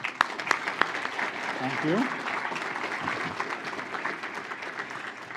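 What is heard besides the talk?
audience applause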